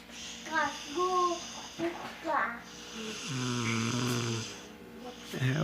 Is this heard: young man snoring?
yes